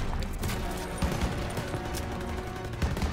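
Call of Duty video game battle with sustained suppressive gunfire: dense overlapping rifle and machine-gun bursts rattle continuously at moderate volume, with heavier thumps punctuating the steady clatter.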